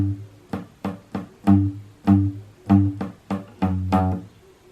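An electric guitar plays the intro riff of a song at a slow, deliberate pace, with about ten distinct plucked notes and short held chords in a steady rhythm, close and clear with no talking.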